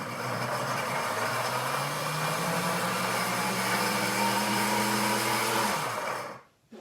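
Pampered Chef cooker running its grind cycle for marinara, a steady loud motorized whir close by that winds down and stops near the end, with no talk.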